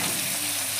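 Chopped onion with green chili fries in oil in a pan for dal makhani, a brief, steady, close hiss of sizzling.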